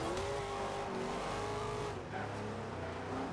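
Race cars in a Forza Horizon Nissan GT-R race, engines droning loudly at high revs with a sustained, slightly wavering pitch that dips briefly before climbing again.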